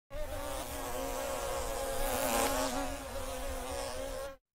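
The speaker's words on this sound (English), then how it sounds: "to buzzes" A single insect buzzes steadily on its own, a close, continuous drone with a faint wavering pitch that holds for about four seconds before stopping abruptly.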